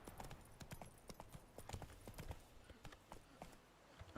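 Hooves of Geralt's horse Roach clip-clop in The Witcher III, a quick, steady trotting rhythm of hoof strikes, fairly close, with faint game ambience behind.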